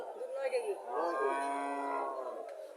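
A dairy cow gives one drawn-out low moo close by, rising and holding for about two seconds before trailing off, with no talking.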